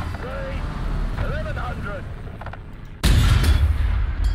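A tank gun in War Thunder booms once, loud and close, after a few seconds of steady engine rumble under faint radio chatter, leaving a heavy sustained roar afterward.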